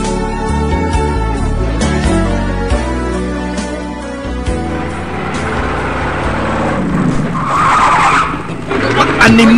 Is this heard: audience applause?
no